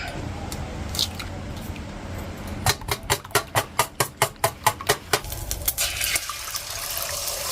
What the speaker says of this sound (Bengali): এবার আমি কটা ডিম ফেটে নেবো